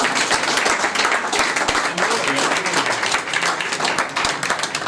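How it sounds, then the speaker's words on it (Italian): Crowd applause for the Sestrese cycling association at a gathering with an Italian cycling legend, dense clapping filling the whole stretch with voices mixed in. "un grande applauso alla sestrese"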